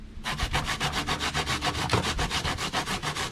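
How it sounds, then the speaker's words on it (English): Coconut grated by hand for coconut milk, a close, steady rhythmic rasping of even strokes, repeating quickly with no talk. "You have to go to grate it like this."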